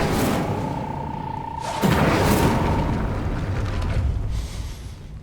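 In the Hogwarts Legacy video game an Incendio fire spell is cast, giving a loud whooshing burst of flame with a rumbling boom and a brief ringing tone, then a crackling tail, with no speech.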